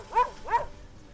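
A dog in a recycling-center video game gives two short barks in quick succession, fairly close and clear, with no talking over them.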